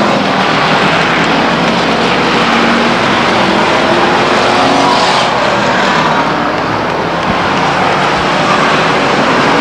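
Race cars at Stockton 99 Speedway roar past in a continuous loud, dense wash of engine noise, several cars blending into one sustained drone with no clear gaps.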